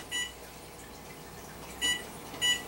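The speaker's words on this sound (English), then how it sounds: "Set your timer." A kitchen timer being set while bacon pizza bakes, giving three short, faint electronic beeps, one near the start and two close together near the end, with quiet background hiss between.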